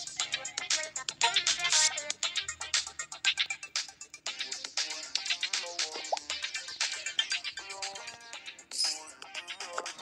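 A phone ringtone chimes repeatedly inside the PK XD mobile game, a bright melodic electronic tune playing steadily over background game music for the whole stretch, with no talking.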